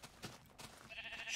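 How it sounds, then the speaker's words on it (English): Sheep in the video game Through The Ages bleat faintly a few times over soft game ambience, with a brighter hiss building toward the end and no speech. "We've got a million sheep."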